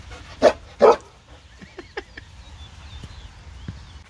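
Dogs barking outside a hotel room, two loud close barks early on followed by fainter distant yelps and whines over a quiet background, with occasional birdsong.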